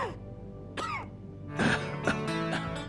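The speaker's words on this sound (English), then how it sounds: "Back at HQ I run into Bill Taggart, who clearly went to the same fake cough school as Stanton Dowd." Fake cough from a character in Deus Ex: Human Revolution, a few short throaty coughs and throat clearings at moderate level over game background ambience and music.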